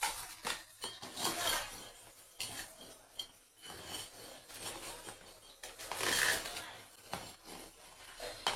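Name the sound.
placing a karai wok on the stove, pots clinking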